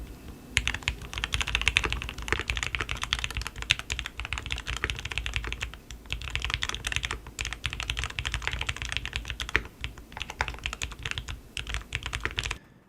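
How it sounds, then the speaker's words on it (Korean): Keyboard typing captured on a condenser microphone, a fast, busy stream of clicking keystrokes with occasional heavier thumps, close and continuous for the whole stretch with no talking. "지금까지 사용해왔던 컨덴서 마이크의 타건 소리를 들어보았습니다"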